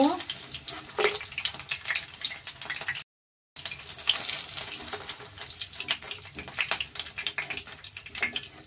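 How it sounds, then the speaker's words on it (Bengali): Paneer cubes frying in oil in a pan give a steady, close crackling sizzle that runs on with scattered pops, broken by one short gap of silence partway through. "হয়ে গেছে আমার পনিরগুলো ভাজা।"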